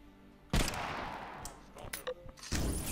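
Gunshots in the VR shooter Compound, with a sharp blast and then a few scattered quieter shots and clicks that fade out, before another burst near the end.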